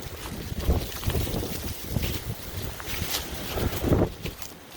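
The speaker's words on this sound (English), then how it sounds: "Very windy today" Strong wind buffets and roars across the microphone in gusty bursts, with no voices.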